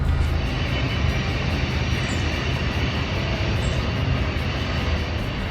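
A train rumbles steadily out of a tunnel deep in a river canyon in Breaks Interstate Park, a broad continuous roar heard from a distance with no talking.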